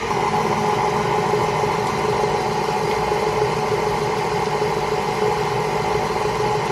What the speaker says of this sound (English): I then just let that mix on its own on a light kind of setting